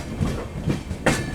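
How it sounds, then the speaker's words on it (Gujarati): Poorna Express train pulling into Madgaon railway station in Goa, with a steady rolling rumble and clatter of wagons on the rails and a louder surge of wheel noise near the end. No voices. "આપણી ટ્રેન આવી ગઈ છે અત્યારે ગોવાના મડગાંવ રેલવે સ્ટેશન ઉપર"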